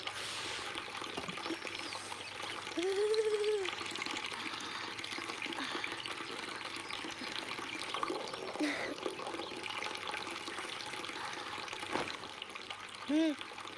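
A bathroom tap runs steadily while someone brushes their teeth, a continuous close hiss of flowing water lasting throughout, with a couple of brief voice sounds over it.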